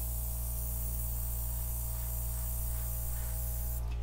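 An airbrush sprays acrylic paint for a flip-and-drag pour, giving a steady hiss that runs unbroken alongside a low constant hum, with no talking.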